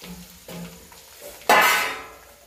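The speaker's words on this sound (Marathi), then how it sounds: "लसूण चांगलं फुटू द्यायचं आहे." Whole garlic cloves with spices dropped into hot oil in a pan, a quiet stirring rattle followed by a sudden loud burst of sizzling frying.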